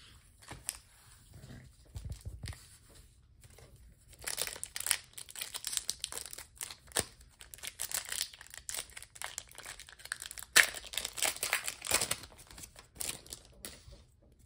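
Pokémon 151 card packs are torn open and handled, giving repeated crinkling foil wrappers, tearing and rustling in irregular bursts, quiet and close throughout.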